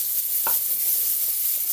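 Natural seasonings like sweet pepper, onion and garlic stirred into a sizzling frying pan while cooking Jamaican-style curry cabbage, with a steady loud sizzle and one brief scrape of stirring.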